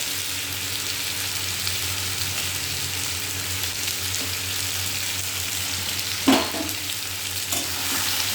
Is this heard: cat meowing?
no